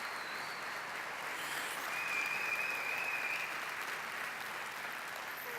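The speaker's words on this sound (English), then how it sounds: "I would like to ask you for a big applause" Large crowd applauding at a stage ceremony in Ljubljana, Slovenia, a steady dense wash of clapping that holds evenly throughout and swells slightly in the middle, with no speech.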